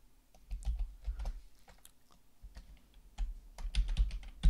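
Quiet, close keystrokes patter on a computer keyboard in irregular bursts with short pauses, no voices present.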